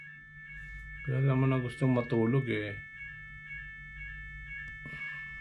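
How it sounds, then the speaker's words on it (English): A steady electronic alarm tone beeps continuously in the background while a person speaks briefly over it. "Narinig niyo yung alarm?"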